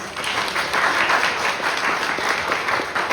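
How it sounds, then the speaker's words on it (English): A round of applause from the audience at a Seattle foundation's annual gathering, steady and dense clapping filling the room evenly throughout without pause. "Shall we give them a round of applause?"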